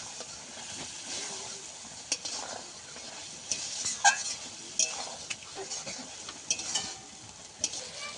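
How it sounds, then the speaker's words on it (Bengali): Okra being stirred in a frying pan, repeated light scrapes and occasional metal clinks of a spatula over a soft continuous sizzle, close and moderately loud. "টাকা ঢেঁড়সটা দিয়ে দেব। হালকা হাতে একটু নেড়ে দেবো।"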